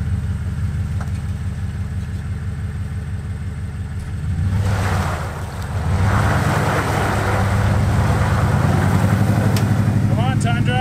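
A Toyota Tundra TRD Pro revs hard as its wheels spin in muddy ruts on an off-road trail, the engine droning steadily then surging louder midway, with someone talking over it.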